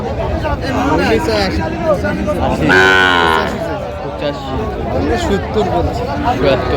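A cow moos loudly once amid the steady hubbub of a crowded outdoor cattle market in Brahmanbaria selling Sahiwal heifers, with several people talking nearby throughout.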